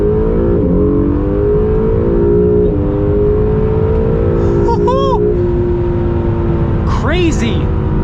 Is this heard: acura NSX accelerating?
yes